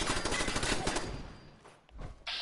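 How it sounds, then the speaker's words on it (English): Gunfire from a 10mm pistol in the video game Fallout 4, a dense run of sharp shots packed close together, loud and continuous at first, then thinning out with a brief lull before a last burst. "I really want to try out this 10mm pistol."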